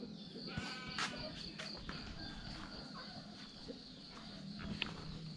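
Goats bleat now and then on a farm on a morning before rain, their calls scattered and fairly faint over soft footsteps and a steady outdoor background.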